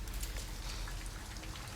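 Steady rain in the video game Detroit Become Human, a dense, continuous hiss of drops falling on surfaces, even and unbroken throughout with no voices.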